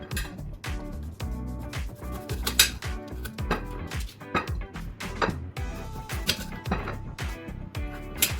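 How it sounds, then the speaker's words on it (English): An onion being chopped on a cutting board during home meal prep: a run of sharp knife taps and thuds at close range, irregular and brisk, mixed with light clinks of kitchenware and no talking. "Now I'm gonna chop the onion."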